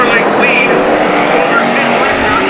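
Street stock race cars roar around Havasu 95 Speedway, with loud, continuous engine noise from several cars close together and an announcer talking over the racing.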